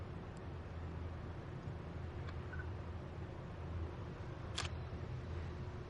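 A single camera shutter click, sharp and brief, cuts through steady low background noise during a flash portrait photography shoot.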